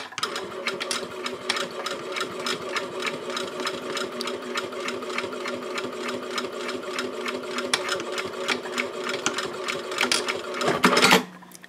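A sewing machine stitching lines across fabric at a 2.5 stitch length runs in a fast, steady mechanical rattle close by, ending with a brief louder clunk near the finish, with no voices.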